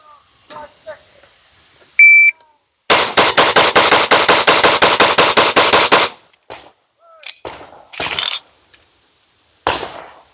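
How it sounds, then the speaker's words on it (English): A compensated SIG P320 pistol is emptied in a rapid full-magazine string at close range, about twenty sharp, loud shots in quick, even succession, followed by a few scattered clanks and a final shot, with brief talk around it. "a full mag dump at 3 yards"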